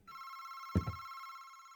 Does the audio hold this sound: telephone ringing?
yes